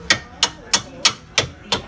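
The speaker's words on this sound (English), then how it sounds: "Hit it with the hammer, slow." Hammer striking a car coilover suspension part during a TEIN Street Basis Z install on a Lancer: six sharp metallic blows at an even, unhurried pace, close and clear.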